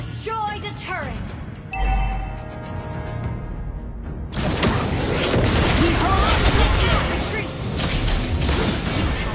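A turret is destroyed in the mobile battle game Mobile Legends, setting off a loud crashing boom amid dense game effects and music, with an in-game announcer voice speaking over it.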